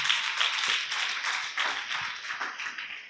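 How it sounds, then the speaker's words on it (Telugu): A church congregation claps together during Sunday worship, a fast, dense run of bright, crisp claps that keeps going steadily and fills the room. "చప్పట్లు కూడా దేవుని మహిమపరచండి"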